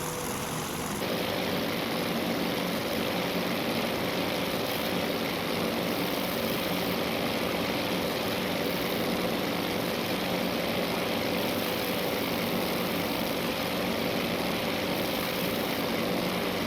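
Aircraft engines drone heavily and steadily as planes form up, heard from a rear gunner's seat in the carrier-battle game Task Force Admiral. The roar stays loud and unbroken throughout.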